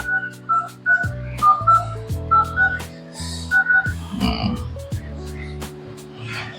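Phone dialling tones sound close and clear as a call is placed in a village, a quick run of short beeps in an uneven rhythm over a bed of background music.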